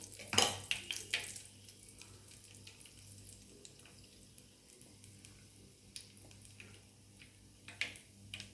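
Mustard seeds and urad dal spluttering in hot oil for an Andhra-style chilli chutney tempering, a burst of sharp crackling pops at the start that thins into scattered, fainter pops over a quiet background.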